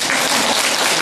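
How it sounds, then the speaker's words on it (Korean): Brief burst of dense audience applause at a Korean Buddhist meditation talk and discussion, loud and continuous clapping with no voices. "박수 좀 그래서 크게 치세요"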